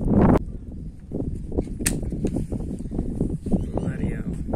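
An air rifle fired over iron sights gives one sharp, brief crack at the very start, then someone talks steadily through the rest.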